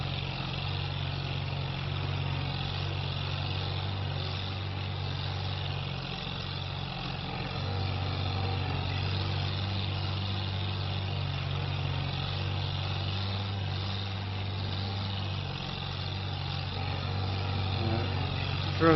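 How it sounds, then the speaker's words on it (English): A tractor pulls a seed drill straight over a ploughed field for winter crops, its engine giving a steady mid-pitched drone that holds evenly throughout with a low rumbling hum. "Drilling straight over the top of ploughing to save a little bit of time getting all this done."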